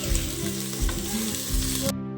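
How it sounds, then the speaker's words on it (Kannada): Tempering in hot oil for a fish dish, with ginger-garlic paste added, crackles in a dense, close, steady sizzle that cuts off abruptly near the end; no voices. "ಸೊ ಈ ಒಗ್ಗರಣೆಗೆ ನಾನು ಪೇಸ್ಟ್ ಮಾಡಿ ಇಟ್ಕೊಂಡಿದ್ನಲ್ಲ ಅದನ್ನು ಹಾಕ್ಕೊಳ್ಬೇಕು"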